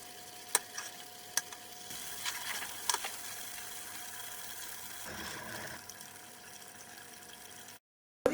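Butter simmering over a medium flame as it turns into ghee, giving a soft, steady sizzle and bubbling with a few light clinks of a utensil, a quieter stretch near the end and a brief cutoff.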